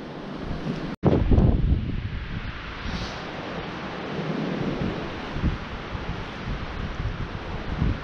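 Strong wind blowing on an open, barren coastline, with a loud gust or bump near the start and then a steady, blustery rush of air buffeting the microphone.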